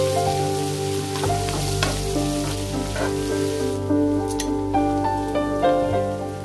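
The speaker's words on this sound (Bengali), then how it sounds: "আমি পেঁয়াজগুলোকে ভালো করে ভেজে নেব" Onions frying in oil, a dense continuous sizzle with spattering crackles and stirring under a steady background hum, close and fairly loud, no voices.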